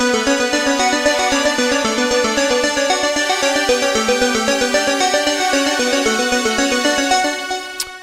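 Keyboard strings play sustained chords recreating a song, with a dense, steady pulsing pattern that holds loud throughout and fades out at the end.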